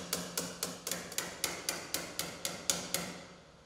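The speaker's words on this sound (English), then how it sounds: "pry bar and hammer to drive the slider back off the snowmobile through the track window" Hammer blows on a pry bar drive a slide off the rail of a 2022+ Polaris Pro RMK Matryx snowmobile: about ten sharp metallic strikes in a steady rhythm, close and loud, with no talking.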